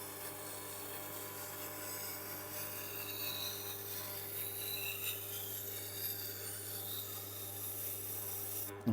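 A damaged Global knife blade grinds steadily against a Tormek sharpening wheel, a continuous faint rasping over a low motor drone that holds without break.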